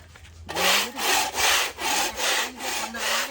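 A hand tool cuts through flake flooring in about six rhythmic rasping strokes, each a loud, close scraping burst with short gaps between, starting after half a second of near silence and with no talk.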